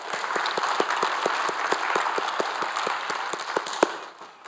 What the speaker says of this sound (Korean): 하나님께 영광의 박수 한번 합시다.